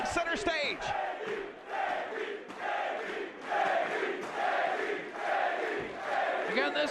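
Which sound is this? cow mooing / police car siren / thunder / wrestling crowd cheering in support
wrestling crowd cheering in support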